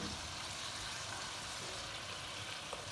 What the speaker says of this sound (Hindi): अब यहाँ 2 से 3 मिनट अच्छी तरह से मसाले की भुनाई करेंगे।